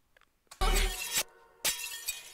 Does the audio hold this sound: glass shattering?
yes